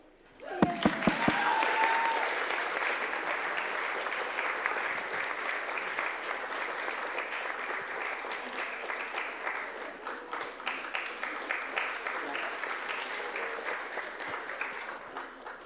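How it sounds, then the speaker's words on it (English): Sustained applause from an audience at a closing ceremony, opening with a few sharp claps and swelling into a dense, steady clatter of many hands that holds loud for the whole stretch. "Do you want to clap again?"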